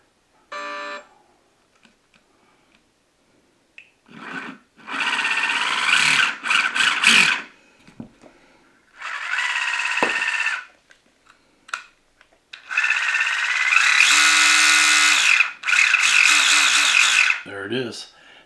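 An RC servo motor on an Axial SCX10 III crawler build whirs in several short bursts of a few seconds each, separated by quiet gaps, close and fairly loud.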